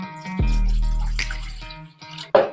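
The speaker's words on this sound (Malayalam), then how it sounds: "കുറച്ച് വെള്ളം ഒഴിച്ചു കൊടുക്കാം." Water poured into a metal idli steamer pot produces a short, close splash with a ringing metallic tone lasting over a second, then a brief clatter at the end.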